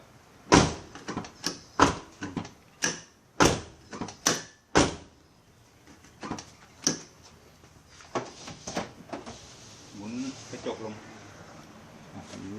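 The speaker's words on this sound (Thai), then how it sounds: "ให้เราลองทดสอบปิดประตูก่อน" Door being shut and reopened repeatedly while its fit is tested after re-hanging, a door that had sagged and would not close tightly: a series of sharp close knocks and bumps, spaced evenly at first, then softer handling noises as a person talks.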